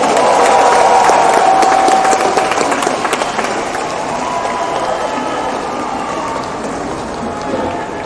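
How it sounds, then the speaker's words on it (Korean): Audience at a political rally in Iksan breaks into loud, sustained applause, dense clapping that swells at the start and then settles to a steady patter for several seconds. "박수 한번 부탁드립니다"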